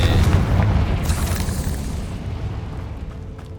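A Confringo fire spell from the video game Hogwarts Legacy goes off as a deep, booming explosion with a sharp crackling burst, then rumbles and fades away over a few seconds.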